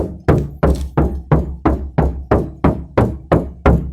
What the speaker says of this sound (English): You see, like the sound from the door, like it's empty, right?